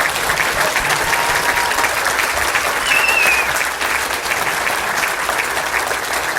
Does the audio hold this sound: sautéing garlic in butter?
no